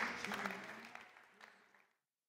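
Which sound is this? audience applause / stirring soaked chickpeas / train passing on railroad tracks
audience applause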